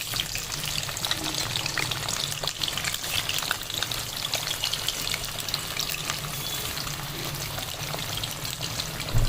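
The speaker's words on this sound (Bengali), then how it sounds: "এই আলুগুলো আমি মোটামুটি একটা তেলের মধ্যে ভেজে নেব।" Potatoes frying in oil for a Bengali mutton curry (pathar mangsho jhol), a continuous crackling sizzle held steady throughout, close and fairly loud with no talk.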